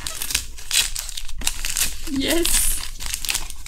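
Wrapping on a package of Pilot pastels crinkles and crackles as it is opened by hand, continuous rustling close up under a French-speaking voice.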